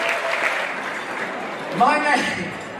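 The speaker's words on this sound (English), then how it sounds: "Let's give them a big round of applause." An audience at an Armenian-American museum gala in Los Angeles claps in a steady wash of applause, with a voice briefly speaking over it.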